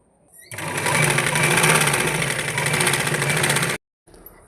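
A sewing machine joins the seams of uniform pants in one loud, steady burst of fast stitching lasting about three seconds, then stops abruptly into near silence.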